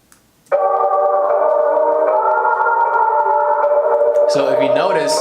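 A vocal track processed with Logic Pro X's natural voice filter: a loud sustained sung tone, steady and effected, enters after half a second of near silence and shifts into a bending, wavering pitch near the end.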